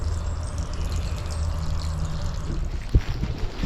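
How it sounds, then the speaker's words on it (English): A pond pump runs outside a garden waterfall pond, pushing water out through tubing with a steady low hum and rushing, trickling flow, plus a couple of brief knocks near the end. "I'm just connecting that to my original pump, putting it outside the pond and pumping half the water out of it."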